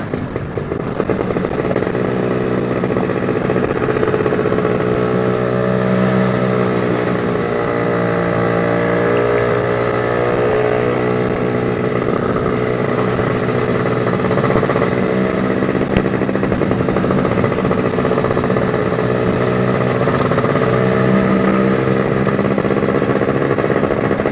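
A two-stroke motorcycle engine fitted with a Casa Performance Sledgehammer runs steadily and loudly, its revs rising and falling in smooth sweeps across the whole stretch with no talk over it.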